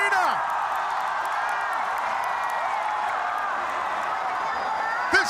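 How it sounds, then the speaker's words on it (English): A raucous MMA arena crowd roars steadily throughout, a dense wash of cheering and whoops with a commentator's excited voice running over it. "This crowd raucous for Gina Young"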